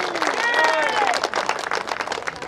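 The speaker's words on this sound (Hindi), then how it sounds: "आपकी तालियां कमजोर हैं" An audience at a Hindi poetry recital claps in a dense, sustained burst of applause, loud and steady for a couple of seconds before thinning slightly, with crowd noise mixed in.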